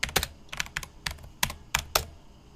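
Someone types a search on a computer keyboard, a quick irregular run of crisp, close key clicks with short pauses between bursts and no talk over them.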